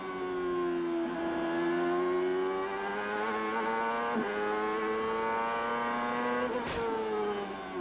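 CART Indy-style race car engine at Laguna Seca in 1997, loud and close, holding a steady high-pitched drone as the driver works the throttle, with brief lifts and a sharp blip near the end.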